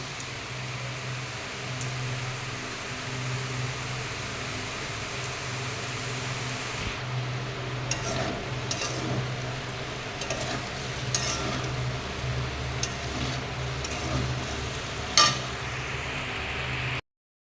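Okra and potato curry with tomato and cumin cooks in a pan, giving a steady low sizzle with scraping stir strokes and occasional utensil clinks against the pan.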